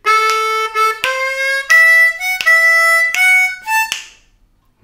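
Harmonica plays a bluesy lick, a string of bright sustained notes with sharp attacks and bends, loud and close and alone, ending in a brief fade.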